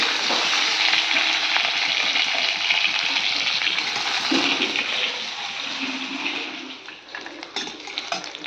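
Sliced potatoes frying in oil in a wok give a steady, loud sizzle close by, with occasional stirring scrapes as it settles slightly toward the end.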